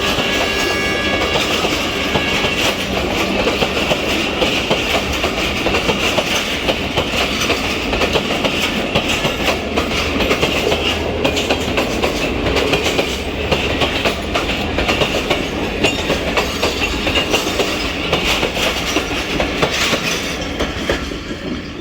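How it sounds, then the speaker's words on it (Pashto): A train rolls past on the rails at a bicycle market in Peshawar, a loud continuous rumble with clickety-clack wheel rhythm and metallic squeal, steady and close for the whole stretch amid street noise. "دا ریل ګاډی لاړو"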